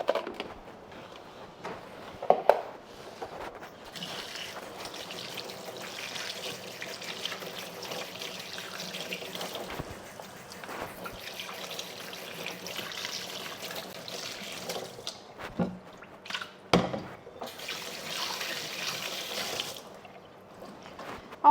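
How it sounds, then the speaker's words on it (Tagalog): Pork spare ribs rinsed under running tap water in a kitchen, a soft continuous pouring and trickling stream with brief splashes and handling clatters, fairly quiet and close, no talking. "Una, kailangan muna natin hugasan ng ating spare ribs."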